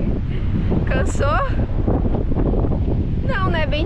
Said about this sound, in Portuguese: Tá ventando muito aqui, gente.